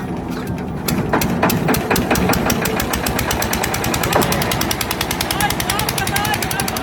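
A makeshift trolley driven by its own engine instead of a tractor chugs loudly and steadily, with rapid rhythmic knocking pulses throughout.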